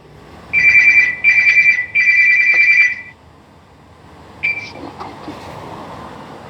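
A phone ringtone rings loudly and close in a classroom: three sustained electronic tone bursts in quick succession, then silence and a short fainter chirp with faint room noise.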